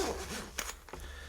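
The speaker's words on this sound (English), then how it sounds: "I'll zip it up so I don't drop everything." A zipper drawn closed around a small carrying case for a bright red portable iFi headphone amplifier, a quick scratchy zip with a couple of short pulls, close and clear.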